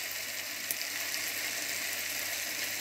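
Stuffed bell pepper cups with a little oil and a sprinkle of salt sauté in a pan, giving a steady, soft sizzle of frying with faint crackles throughout and no voices.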